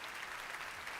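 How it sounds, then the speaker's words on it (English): Brief, fairly faint applause from a conference audience at the Google I/O developer keynote, a soft wash of clapping lasting about a second. "Yeah, clap, clap, clap."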